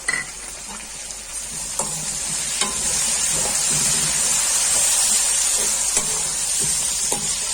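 Tomatoes fry and get stirred in a pot for Sindhi degi chana pulao, a steady loud sizzle with scattered scraping clicks of the spoon, close up and with no talking.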